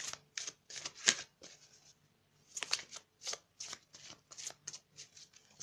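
A deck of ascended masters oracle cards being shuffled up close, with quick bursts of riffling and flicking in an irregular rhythm and a brief pause partway through, quiet and clear with no talk.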